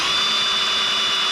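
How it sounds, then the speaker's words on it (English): A power drill whirs steadily in reverse, driving a washer down during a KA24DE cylinder head installation on a 240SX, with a continuous high-pitched motor whine and no pauses. "Just reverse the drill and drive it on back down in there."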